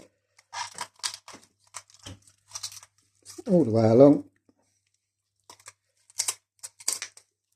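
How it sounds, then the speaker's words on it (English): Kitchen scissors cut through the backbone of a whole country chicken in a series of short, crunchy snips spread across the clip, with someone speaking briefly between the cuts. "You can use a knife if you really want, but good pair of scissors will take care of it."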